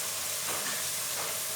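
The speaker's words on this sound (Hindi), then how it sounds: "मिक्स करेंगे मसालों को" Ground spices such as red chili and turmeric powder stirred into hot oil in a frying pan for aloo baingan, a potato and eggplant dish: a steady close sizzle with soft scraping swishes of the spoon, no voices.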